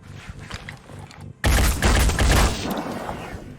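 Gunfire in the video game Phoenix Point: after a quieter stretch of game ambience, a loud burst of heavy fire erupts and roars on for about two seconds, then fades into a lingering rumble.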